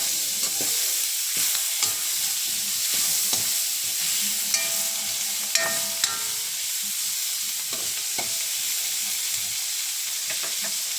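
Tomatoes stir-fried in a pan produce a dense, bright hissing sizzle that holds steady throughout, broken by occasional spatula scrapes and soft clinks against the pan.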